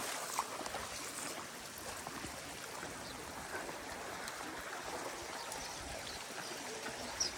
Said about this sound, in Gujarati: અરે બાપરે, પાણી કેટલું જાય છે.